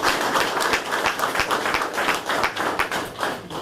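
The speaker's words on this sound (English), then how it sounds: "So give them another round of applause." A round of applause for city workers at a recognition event, with dense clapping from a gathered crowd and distinct individual claps standing out in a steady, lively rhythm.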